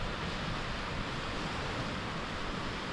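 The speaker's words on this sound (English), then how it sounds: "That wind is cold." Cold wind blows at Harrington Lake in the North Maine Woods, a loud unbroken roar buffeting the microphone with no pauses.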